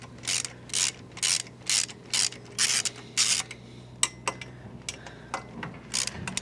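Ratchet with a 13mm socket working on the exhaust of a BSA Goldstar 650 motorcycle, giving a series of close, regular bursts of ratcheting clicks, then a few sharper single clicks and pauses, with no talk.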